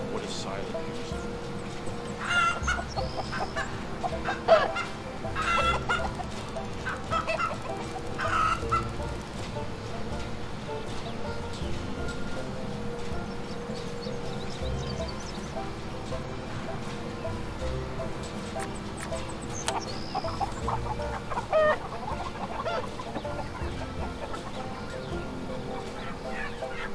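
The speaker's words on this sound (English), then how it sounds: "Check on my chickens." Chickens cluck in the Farm Manager 2018 farm simulation game, a steady busy layer of fowl calls with occasional louder squawks running under a constant game background.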